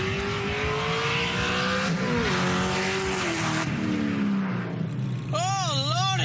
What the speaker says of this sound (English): it sounds like a NASCAR driving around this